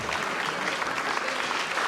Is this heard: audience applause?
yes